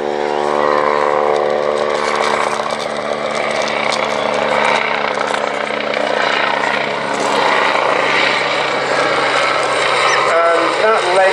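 Loud, steady Westland Wasp helicopter rotor and turbine roar at an airshow throughout, a continuous droning whine with a rhythmic chop, close and dominant.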